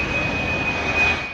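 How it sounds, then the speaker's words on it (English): A helicopter diving onto a mountain hut high in the Tyrolean Alps gives a steady, loud engine and rotor roar with a faint whine held throughout, with no pauses. "A helicopter performs an incredible dive onto the Julius Pear hut, perched high in the breathtaking Tyrolean Alps."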